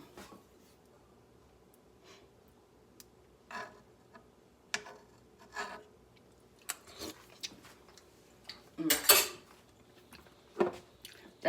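A spoon and dishes are handled in a kitchen while making soup, giving a scattered series of light clinks and taps, a sharper clatter near the end, all close and fairly quiet with no talking.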